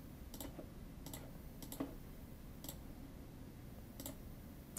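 Clicks land on a virtual Greek-alphabet keyboard in a search interface, sharp, isolated taps spaced irregularly, faint and close against a quiet hiss with no voice present.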